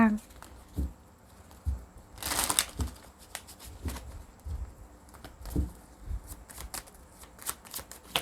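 Tarot cards are shuffled and handled close by: one brief, crisp riffling burst and soft patting taps, while someone talks throughout.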